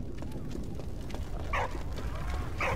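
A dog barks in the World War I video game Valiant Hearts: The Great War, two short barks standing out over low, steady game ambience.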